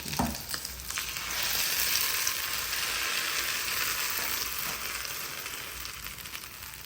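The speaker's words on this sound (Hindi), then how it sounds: "अब जो मैंने इसका तड़का रेडी किया था वो इस पे डाल देते हैं।" Hot oil tempering is poured onto cooked lentils for dal makhani, sizzling loudly after a brief splash, settling into a steady crackling fry that fades slightly toward the end.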